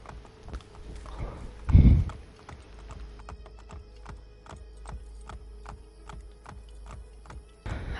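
Regular clip-clop of a horse's hooves in the Assassin's Creed Brotherhood video game, a steady close walking rhythm after a brief loud thump near the start, with no voices.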